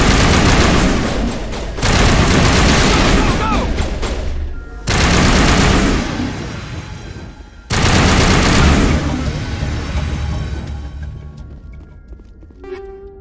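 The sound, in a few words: gunfire in the video game Mass Effect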